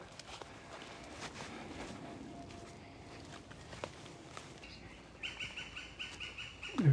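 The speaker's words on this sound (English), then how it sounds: "disturbed bird making that noise pretty much above my head" A disturbed bird calls from overhead in woodland in Surrey. The calls are faint and repeated over a soft outdoor background, with a few rustles and footsteps. Brighter chirps come toward the end.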